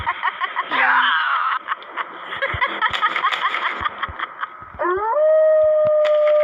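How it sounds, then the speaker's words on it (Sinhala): Dogs howling in a horror video game: long, loud, close howls that rise and waver, overlapping in sustained waves with short yips and whimpers between them. "අනේ බල්ලෝ කෑ ගහන්න දිනාංගෝ"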